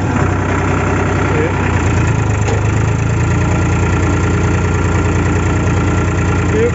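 A tractor engine idles and runs steadily with a harrow attached in a field setting, a loud continuous low chugging drone with a regular pulsing beat and no clear speech over it.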